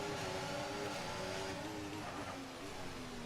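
F1 race car engine from the F1 24 video game launching at a race start, a steady droning engine tone with a pitch that sags then climbs, loud and continuous with other cars blended behind.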